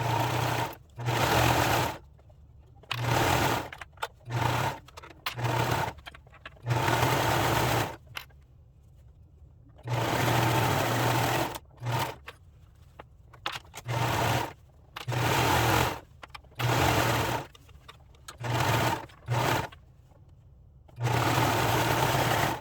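A sewing machine stitches the side seams of a top made from double brushed poly fabric, running in loud steady bursts of varying length separated by short silences.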